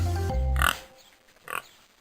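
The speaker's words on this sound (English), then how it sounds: "4 pigs." Pigs oinking in a children's counting song about farm animals: a low snorting grunt followed by a shorter, fainter second oink, close and clear in an otherwise quiet pause.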